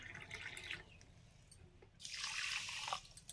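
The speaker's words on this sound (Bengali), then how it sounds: "জল দিয়ে দেবো।" Water poured onto sugar in a pot to make syrup, a steady gushing splash that starts partway through after a few faint drips and trickles, close and moderately loud.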